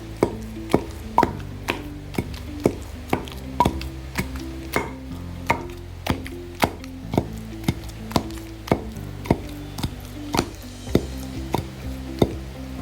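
Steady rhythmic pounding of ivy gourd chutney in a stone mortar, dull thuds repeating about once a second, close by, with rain faintly hissing behind.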